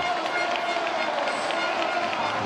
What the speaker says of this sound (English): Listen though, the crowd is appreciating his efforts